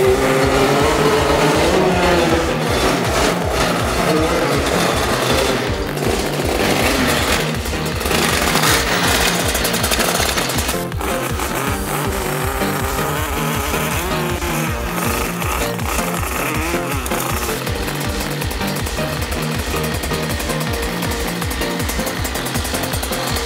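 A small engine runs loud and steady close by, its rapid firing pulses throbbing evenly with a harsh buzzing roar throughout.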